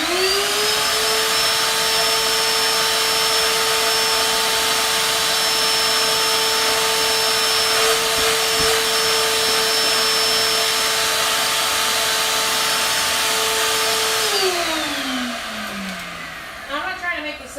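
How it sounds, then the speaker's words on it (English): A vacuum cleaner runs loud and steady in a workshop where a Tecumseh small engine is being worked on, holding a constant whine before spinning down near the end. "Get the vacuum back on."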